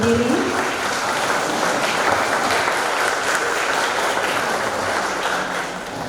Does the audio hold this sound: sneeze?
no